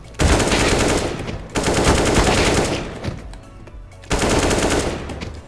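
Rapid automatic gunfire from the video game CS:GO pre-firing a corner, loud and close, in three sustained bursts with short gaps between them.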